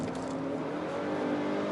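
A Mercedes-Benz E200 facelift driving on the road, a steady engine hum and tire and road roar heard from inside the cabin, continuous and moderately loud, with no speech.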